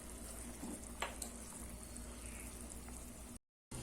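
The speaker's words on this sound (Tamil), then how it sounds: "இப்போ பாருங்க தண்ணி நல்லா கொதிக்க ஆரம்பிச்சு" Water with cardamom powder bubbles and hisses in a pot at a low, steady level, with a few faint clinks, ending in a brief cut of silence.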